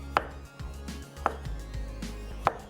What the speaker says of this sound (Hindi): टमाटर के स्लाइस भी कर लेते हैं बारीक बारीक